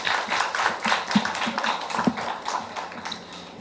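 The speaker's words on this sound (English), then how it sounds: "please give a big round of applause for Team Dream Collective" An audience at a youth English presentation contest claps for a team, a steady patter of many hands at moderate distance, fairly soft and even, fading slightly toward the end.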